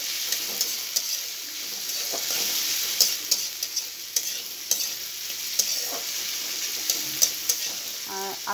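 Whole dried red chilies fry in hot oil in a home kitchen, giving a steady close sizzle with light crackles and occasional small pops throughout. No one speaks over it.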